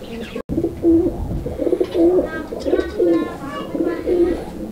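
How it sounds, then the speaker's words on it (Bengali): Gola pigeons at a farm coo repeatedly and up close, their soft throaty calls falling into a steady, pulsing rhythm of phrases. "আপনারা দেখতে পাচ্ছেন কবুতরটার ডাক, নটটা এই মুহূর্তে ডাকাডাকি করতেছিল"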